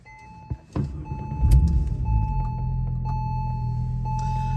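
A 2001 Porsche 911 Turbo with 4,566 miles starts up from inside the cabin: a couple of clicks, then the engine cranks, catches with a loud rumble and settles into a steady, close idle.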